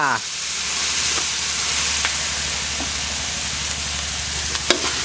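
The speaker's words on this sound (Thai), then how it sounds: "ผัดให้หอมไปเลยนะครับ" Coarse homemade curry paste with fish sauce stir-frying in a pan for a fish and pickled bamboo shoot curry, a loud steady hiss and sizzle with occasional scraping knocks of the spatula.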